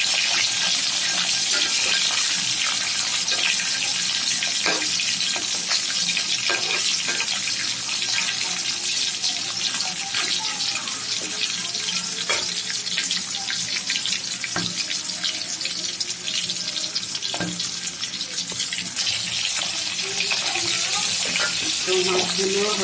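Fish frying in a pan with onion and green chili for a hilsa pulao meal, a steady close sizzle with scattered crackles and light utensil clicks running throughout at an even level.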